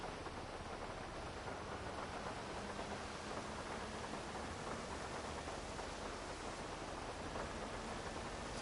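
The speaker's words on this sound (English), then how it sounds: "Raining in LA?" Rain in the video game Grand Theft Auto 5, a steady, even hiss of heavy rainfall falling continuously without pause and with no voices.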